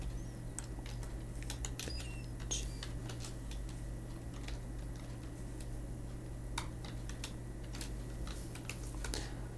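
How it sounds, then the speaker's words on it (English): Keys clatter steadily on a computer keyboard as a usermod command is typed into an Ubuntu or CentOS Linux terminal, close and fairly quiet over a constant low electrical hum. "So let's come back to the Dirac user and type this command again,"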